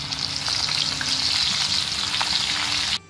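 Chicken lollipops deep-frying in reheated oil give a loud, dense, constant bubbling sizzle that cuts off sharply just before the end.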